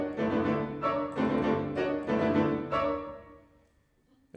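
Dissonant cluster chords from Ravel's Valses nobles et sentimentales are played on solo piano in strict, even time: four evenly spaced chord strikes, close and clear, fading into silence.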